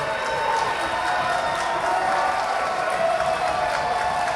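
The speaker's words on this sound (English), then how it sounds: "Applause and appreciation for the action that we're seeing here" A wrestling show crowd's sustained applause and cheering rolls on evenly in a large space, with a faint voice talking over it.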